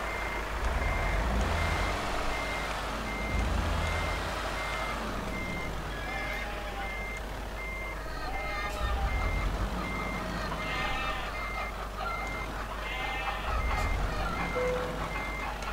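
Truck reversing alarm in Euro Truck Simulator 2, steady repeated beeps pulsing at an even pace over a low engine rumble, loud and clear with no talk.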